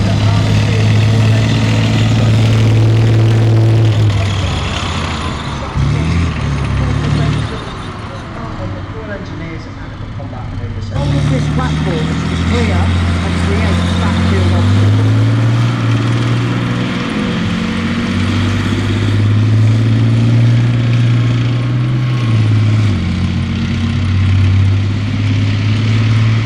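An armoured engineer vehicle, a variant of the Jackal, drives at Tank Fest with a loud, close engine drone that rises and falls in pitch as it moves, while people talk over it.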